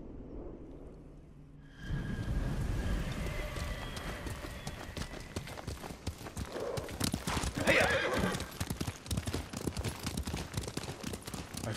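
A horse in Ghost of Tsushima gallops in with rapid, close hoofbeats that continue steadily, and a loud whinny rises partway through.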